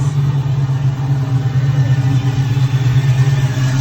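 A 1970 Camaro Ringbrothers edition muscle car engine runs close by, holding a loud, steady, deep rumble for the whole stretch with no talking.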